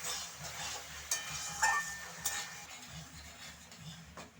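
Chili sauce and dark soy sauce stirred together in a pan for restaurant-style chili chicken, a quiet scraping stir with a few soft clicks and faint sizzle, no talking.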